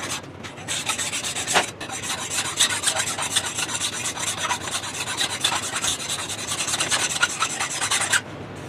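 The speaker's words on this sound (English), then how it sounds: "I'm just going to take this file and run over the top of that" A hand file rasps steadily across the top of a rusty steel railroad track being shaped into a tooling anvil, close and continuous back-and-forth strokes with no talking.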